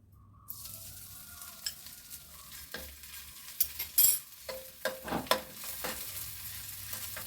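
Ginger-garlic paste hitting hot oil in a pan: a sudden sizzle burst after a quiet start, then crackling and scattered spatula stirs growing busier toward the end.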